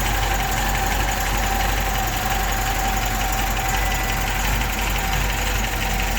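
Rebuilt engine with rebuilt carburetors in a 1967 MGB GT runs at a steady idle, close and continuous, with a constant low hum and a faint regular mechanical patter throughout.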